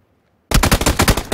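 Automatic gunfire in the video game PlayerUnknown's Battlegrounds: a loud, close burst of about ten rapid shots begins abruptly after a moment of silence.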